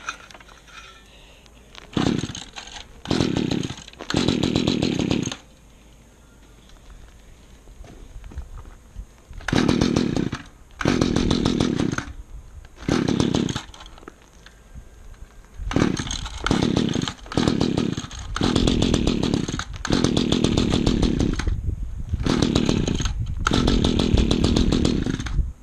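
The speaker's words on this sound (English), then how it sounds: "Yeah, it wants to go. You guys can hear it." An old rototiller engine sputters and revs in repeated bursts, loud and close, roaring for a second or two at a time between short quiet gaps as it struggles to keep running.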